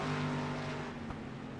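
Street stock race cars at Lakeland in iRacing drone together in a steady, continuous engine roar with a sustained pitch, close and even in level, no talk over it.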